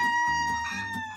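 A chicken clucks and crows in a short burst, loud, close and harmonic, with no talk over it.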